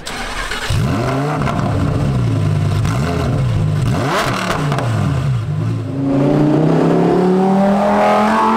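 A Lamborghini Huracan Performante engine rises and falls through several revving pulls, then settles into a loud, steady higher drone as the car drives on, close and with no talking.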